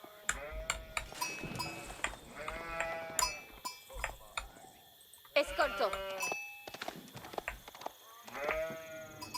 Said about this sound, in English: these scouts just attract the sheep